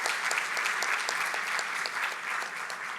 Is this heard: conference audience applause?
yes